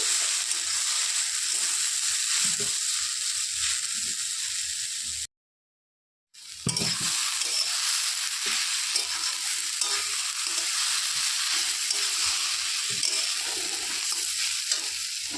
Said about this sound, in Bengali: ঢাকনাটা খুলে একটু নেড়ে চেড়ে দিচ্ছি